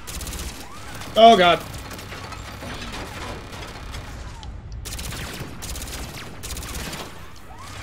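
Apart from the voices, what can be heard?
turret gunfire in video game Mass Effect, Omega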